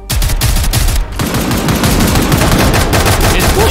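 Loud, sustained gunfire in the game Zero Hour, rapid automatic shots hammering close by in a dense, continuous stream for several seconds.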